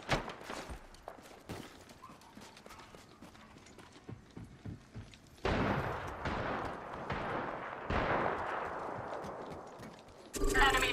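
Gunfire in an Apex Legends match comes as rapid, sharp bursts, sparse at first and then denser and louder, mixed with other game sounds and short spoken callouts.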